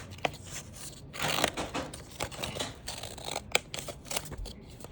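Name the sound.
scissors cutting paper for a puppet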